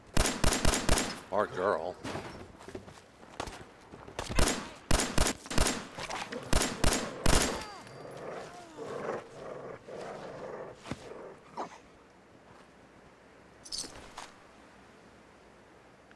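Pipe pistol gunfire in Fallout 4 survival mode, a rapid string of sharp, loud shots in the first half followed by a few scattered later shots, with someone talking over and between them.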